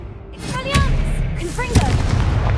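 Spell-casting combat effects from the Hogwarts Legacy video game: sharp magical blasts and whooshing tonal sweeps land in quick succession over a dense, loud background of battle noise.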